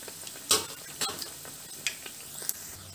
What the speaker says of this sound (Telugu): వడలన్నీ ఈ విధంగా ఫ్రై చేసుకోవాలండి